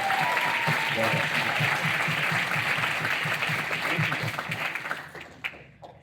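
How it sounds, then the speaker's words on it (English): Audience applause after a film screening at a post-screening Q&A, a dense wash of clapping that holds steady and then tapers off near the end, with voices mixed in. "So I think another round of applause for Elaine, for everybody here."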